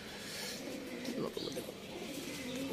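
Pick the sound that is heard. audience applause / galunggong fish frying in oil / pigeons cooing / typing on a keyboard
pigeons cooing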